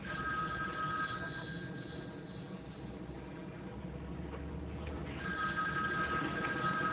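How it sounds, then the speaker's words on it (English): A telephone rings in a quiet interior, its repeating electronic bell tones sounding at moderate distance with a faint low hum beneath and no one speaking. "Aren't you going to answer the phone?"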